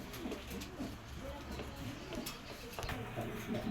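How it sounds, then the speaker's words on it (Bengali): A male racing pigeon coos softly in low, repeated throaty notes close by, alongside faint background noise. "এটা হচ্ছে একটা নর কবুতর"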